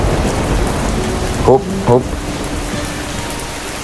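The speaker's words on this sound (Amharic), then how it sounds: "በጣም እየዘነበ ነው።" Heavy rain pours in a dense, loud, steady hiss, with a couple of short vocal exclamations cutting through briefly in the middle.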